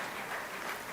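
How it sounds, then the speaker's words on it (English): Broad, steady roar of a crowd at a timbersports rookie competition, like distant cheering and applause blended into an even wash of noise with no single voice standing out. "And you can hear the crowd in the background"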